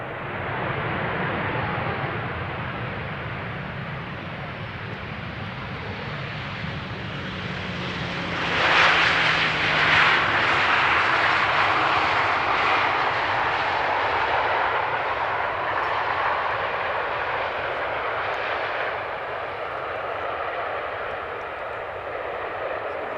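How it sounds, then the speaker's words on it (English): An airliner touches down on runway 18R at Amsterdam Schiphol, its jet roar swelling to a broad rush midway as it passes, then easing into a steady fading rumble, heard from a distance. "Very gentle touchdown."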